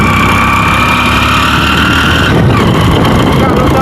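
A motorbike engine labours and struggles to pull, a loud steady drone running throughout with a shift in tone partway through.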